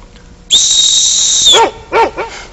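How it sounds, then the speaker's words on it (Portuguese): A shrill, steady high-pitched dog whistle blows for about a second, then a dog answers with three quick, loud, excited barks close by. "Ele começa a latir, fica todo excitado."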